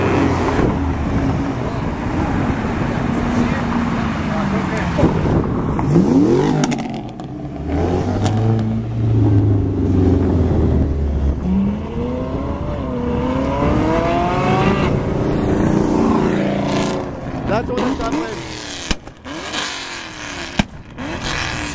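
A Ferrari's engine revving at a Cars & Coffee meet in Dallas, a loud, sustained roar rising and falling through several throttle blips, with crowd noise and brief talk around it.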